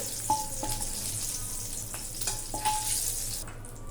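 Eggs frying in a pan for a drumstick egg curry make a steady sizzle with occasional clinks and scrapes of a utensil, close by and continuous with no talking.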